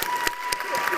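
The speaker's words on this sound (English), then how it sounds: "Could everyone join me in giving Dylan another round of applause?" Brief burst of audience clapping and crowd noise after a student performance at a school ceremony in a gym, with a few sharp claps standing out and a voice speaking over it.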